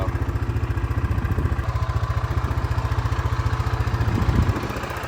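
A completely overhauled motorcycle engine with custom red and black paint runs steadily nearby, a loud, even, rapid low chugging beat that holds throughout with a slight swell near the end.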